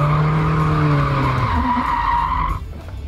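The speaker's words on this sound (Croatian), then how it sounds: "Ajmo gas, stisni gas." A car's tires skid and squeal loudly and close by as it accelerates, with sustained squealing tones that bend and fade before the sound drops away abruptly near the end.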